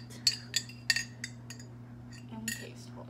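A spoon stirs creamer into hot coffee in a mug, giving several sharp metallic clinks in quick succession, then softer scraping, quiet and close.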